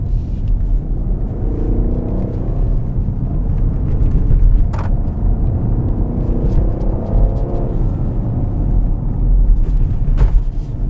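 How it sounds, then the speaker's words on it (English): Engine of an Alpina XB7 facelift SUV with 621 hp, a deep steady rumble with low throbbing harmonics that swell and ease at moderate loudness, heard alone without voices. "Just listen to this gorgeous sound of the engine."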